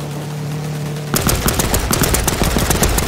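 Rapid machine-gun fire erupts in the World War II shooter Land of War, a loud, dense stream of close shots starting suddenly after a second of engine drone and continuing to the end.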